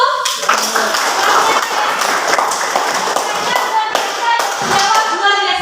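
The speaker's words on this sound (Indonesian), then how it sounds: "Oke, tepuk tangan dulu." Students in a classroom clap along in a loose, uneven burst of applause, mixed with chatter and movement throughout.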